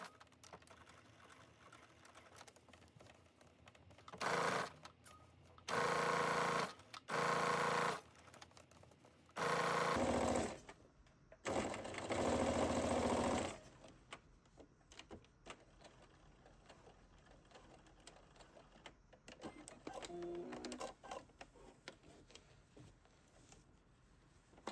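A sewing machine stitches the seam along a bomber jacket pocket in several loud bursts of a few seconds each, separated by short pauses, then gives way to quieter handling noise.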